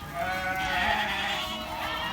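Sheep and goats bleating on a feedlot farm, a loud, continuous nearby bleat wavering in pitch for about two seconds, with no talking.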